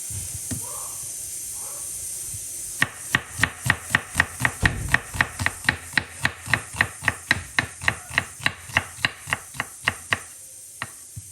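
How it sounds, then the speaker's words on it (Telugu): A knife chops vegetables rapidly and steadily on a board, about two dozen crisp, even strikes close by, over a soft background hiss. "మీలో ఎంతమందికి ఈ చాపింగ్ సౌండ్ నచ్చుతుంది?"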